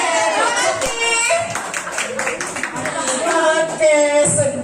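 A group of children claps a counted rhythm in a school training session, short bursts of hand claps in patterned groups mixed with voices calling along.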